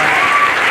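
A dense, steady wash of audience applause at a live stage hypnosis show, loud and continuous throughout the brief moment with no gaps.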